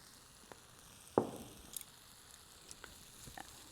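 Food coated in soy sauce and sesame oil sizzles faintly in a pan as it is stirred, with one sharp scraping clatter of the utensil and a few light taps over a steady low hiss.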